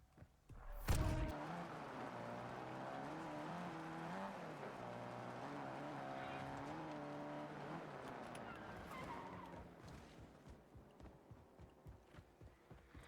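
A car in Warzone driving, with a steady engine drone that rises and shifts in pitch for several seconds after a sharp door-like thump, then fades into crunching, rhythmic footsteps or gravel sounds.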